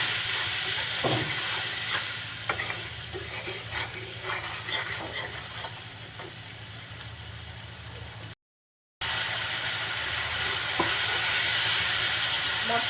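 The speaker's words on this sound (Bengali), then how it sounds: "তেলের সাথে সমস্ত মশলাটা এখন খুব সুন্দরভাবে কষিয়ে নিব" Spices and turmeric sizzle steadily in hot oil for a rohu fish curry with cauliflower, with scattered stirring scrapes and clinks over a constant frying hiss and a short gap near the end.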